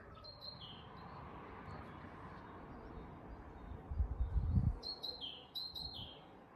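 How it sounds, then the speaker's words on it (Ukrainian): Several birds chirp and trill outdoors at a distance in a spring garden with blossoming orchards, high thin calls repeating over a soft background hush, with a brief low rumble partway through. "Ви чуєте? Птахи співають."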